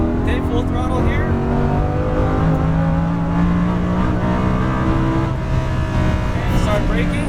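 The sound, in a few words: Lamborghini Huracan accelerating at full throttle on a track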